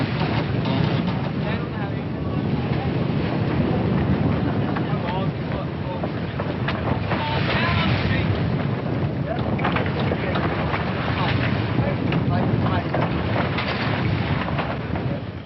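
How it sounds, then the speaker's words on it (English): Gale-force wind gusting to force 8 across a tall ship at sea, a loud, constant roaring rush with buffeting gusts throughout. "Well, we asked for the wind, and here it is, gusting to a force 8 gale."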